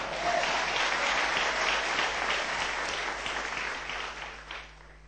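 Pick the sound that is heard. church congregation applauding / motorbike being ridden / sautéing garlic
church congregation applauding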